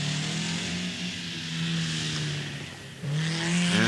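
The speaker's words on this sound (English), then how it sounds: "And here's Keith Billows in the Escort. It's an American Datsun 240Z" Rally car engine, an American Datsun 240Z racing on a road rally course, drones loudly and steadily close by, its revs rising sharply near the end as it accelerates away.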